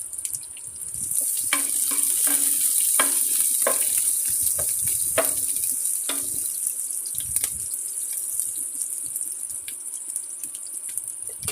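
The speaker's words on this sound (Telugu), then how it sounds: "మనం ఉల్లిపాయలలో సగం ఉల్లిపాయలు సన్నగా తరిగి పెట్టుకొని అవి వేసి కొంచెం సేపు వేగనివ్వాలి" Thinly sliced onions fry in a pan for a chana dal vada curry, giving a steady high sizzling hiss with occasional soft clicks and stirring knocks throughout.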